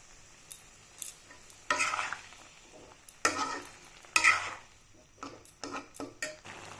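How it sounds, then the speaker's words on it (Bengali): Potato and cauliflower curry with a pinch of sugar stir-fried in a pan: a low sizzle broken by bursts of spatula scraping and clanks, several uneven strokes, close by, no talk. "আলু ফুলকপি তরকারি কষিয়ে নিচ্ছি"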